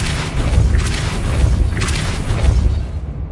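Depulso spell cast in the Hogwarts Legacy video game: a loud, heavy booming blast with a continuous rumbling roar that holds steady for about three seconds before cutting off.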